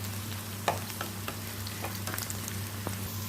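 Eggs fry with spices in a pan for an egg curry, giving a continuous close sizzle with scattered sharp pops and spatula scrapes, no voices.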